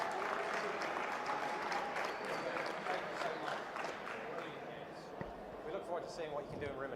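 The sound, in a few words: audience applause for the European champion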